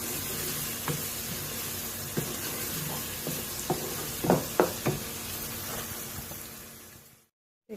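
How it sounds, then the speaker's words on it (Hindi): Onions fry in a pan for a chickpea curry (cholay), a steady sizzle broken by a few sharp clinks of stirring, before the sound cuts off abruptly near the end. "अब इस स्टेज पे हमने 2-3 मिनट के लिए प्याज को भी भून लिया है।"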